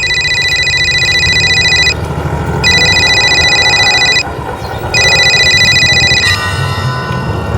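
An incoming call sets off a telephone ringtone in three loud, evenly spaced bursts with short gaps between them, over a steady background hum.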